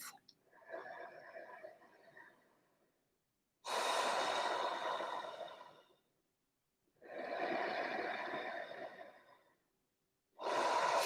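Slow, deep breathing during a vinyasa yoga flow, long airy inhales and exhales alternating with near-silent pauses, close and gentle, about four breaths in a measured rhythm.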